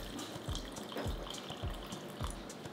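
Water poured into a blender for a mixed red berry drink: a close, steady trickling and gurgling pour with soft rhythmic glugs, fairly quiet and with no talking.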